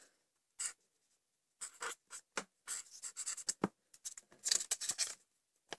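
A pen scratches across paper in short, close, quiet strokes, with irregular pauses between bursts of writing and no talk.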